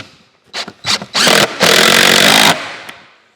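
A power driver runs screws into the wood of a drum pattern in a pattern shop: a few short whirring bursts, then two longer loud runs as the screw seats, close up.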